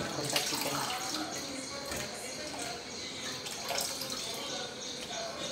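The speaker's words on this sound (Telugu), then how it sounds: "ఇలా కడిగేసి పెట్టుకుంటా చికెన్" Raw chicken is washed under a running tap, with water pouring and splashing into a sink in a steady, close stream and brief voice sounds in the background.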